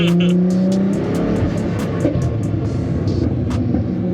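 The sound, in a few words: Nissan R35 GTR exhaust popping flames while revving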